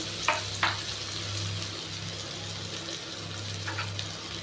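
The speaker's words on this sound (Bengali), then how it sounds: "একটু খুন্তি দিয়ে নেড়ে নিলাম।" Eggplant fries in hot oil for a Bengali eggplant curry with tengra fish, giving a steady close sizzle while a spatula scrapes and stirs the pan in a few brief strokes.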